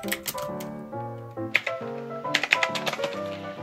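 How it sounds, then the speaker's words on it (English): An old-style keyboard clacks under steady typing, close and crisp, with a run of irregular key strikes and a few sharper louder hits. "This old style keyboard is again very,"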